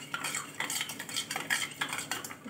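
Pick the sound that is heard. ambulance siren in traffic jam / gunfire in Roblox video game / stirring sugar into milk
stirring sugar into milk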